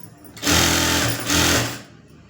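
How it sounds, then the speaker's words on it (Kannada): A sewing machine stitches a blouse neck lining in two loud, fast-whirring runs with a short pause between them. The machine stops to near quiet at the end. "ಈ ಥರ ಸ್ಟಿಚ್ ಹಾಕೋಬಿಡಿ"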